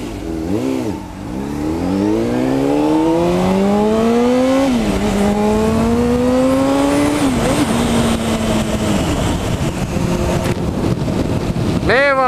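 A Honda CBR 600RR sport motorcycle revs and accelerates hard through rising, shifting gears, its engine note climbing loud and close with wind noise over the microphone.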